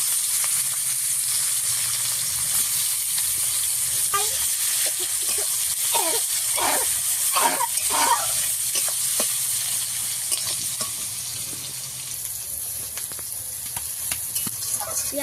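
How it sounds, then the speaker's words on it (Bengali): Chopped onions frying in a pan with bay leaf and whole garam masala for a country-style chicken curry, a steady close sizzle throughout with bursts of stirring scrapes, no talking. "পেঁয়াজটা একটু ভালো করে ভেজে নেব।"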